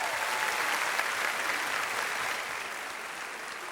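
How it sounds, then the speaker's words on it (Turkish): A dense, even wash of studio audience applause on a Turkish television talk show, many hands clapping together at a steady level that eases slightly toward the end, with no talking. "Evet, best modullarımıza bir büyük alkış alalım şöyle."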